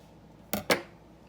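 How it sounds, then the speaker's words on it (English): Scissors snip twice in quick succession through plastic sausage packaging in a home kitchen, two short crisp cuts close by with no talking. "just slide your scissors"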